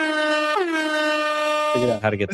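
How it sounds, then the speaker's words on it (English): A loud, sustained air horn blast holding a bright tone, dropping in pitch partway, then cut off by a short burst of voices. "I've got to get an air horn, and so we figured out how to get that"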